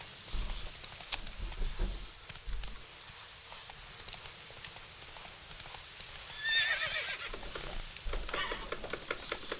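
A horse in The Witcher 3 whinnies loudly and clip-clops along as rain patters steadily in the background, with the hoofbeats and a neigh standing out near the middle of the game scene.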